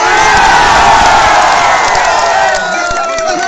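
A huge crowd of over a hundred thousand roars and cheers at a Congress party political rally held at a market, a dense, loud, continuous wash of voices that dips only slightly near the end.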